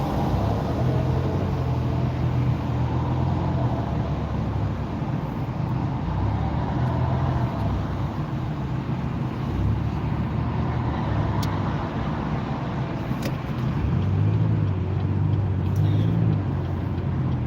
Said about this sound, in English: Got this big semi truck.